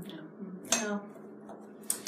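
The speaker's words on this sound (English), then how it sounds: "I'm just going to whisk this together" Whisking ingredients together in a bowl, a few quiet scraping and clinking strokes of a whisk against the bowl at an uneven pace, faint and close.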